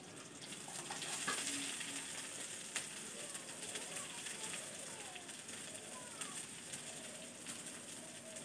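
Chopped chilli and onion go into hot oil for a Bengali fish-oil dish and sizzle faintly and steadily, with light crackles, while a person talks over the frying.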